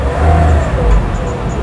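A Nissan Serena HWS Autech engine revs up in a steady, close, loud drone, rising briefly before settling back to a continuous hum.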